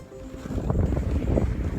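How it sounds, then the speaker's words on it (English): A canoe is dragged through a shallow, rocky creek, giving a steady, close rumble of scraping hull and churning water with brief knocks, mixed with outdoor wind noise. "pulling the canoe through the creek"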